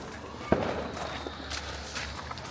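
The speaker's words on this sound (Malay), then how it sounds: "kita bakar mercun sekarang." A single sharp firecracker bang at a Hari Raya celebration, set against outdoor background noise and scattered small thuds, with a few fainter pops following.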